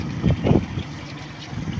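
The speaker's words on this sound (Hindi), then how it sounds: "हवा चल रही है बड़े मज़े मज़े की, गर्मियों की शाम है" Wind on a summer evening in a village, recorded while riding a bike, produces low rumbling gusts buffeting the microphone, strongest in two bursts early on, then a softer steady rush.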